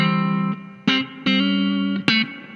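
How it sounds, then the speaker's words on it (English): A Marshall MG30GFX guitar amp with spring-style reverb plays sustained distorted guitar notes and chords, several struck tones ringing out with a reverberant tail, loud and close with no talking. "it sounds like a proper spring reverb"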